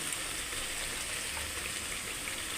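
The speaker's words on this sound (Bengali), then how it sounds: "মশলাটা কষে হচ্ছে" Spices with onion, salt and turmeric frying in a pan, a continuous dense close sizzle with a steady hiss throughout, no voices.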